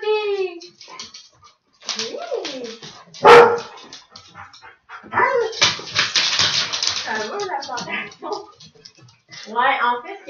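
A dog barking and whimpering in short bursts close by, mixed with a person speaking and praising it in between.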